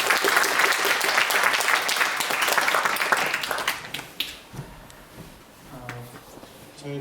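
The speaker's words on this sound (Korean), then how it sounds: "뜨거운 박수로 환영 부탁드립니다." An audience at a university lecture applauds to welcome a pilot speaker, dense steady clapping for about four seconds that then thins out and fades into quiet room noise and a voice.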